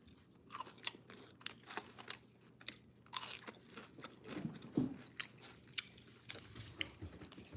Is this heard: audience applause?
no